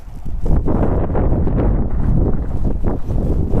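Strong, cold wind buffets the microphone outdoors with a continuous low roar and rough gusts, close and loud throughout.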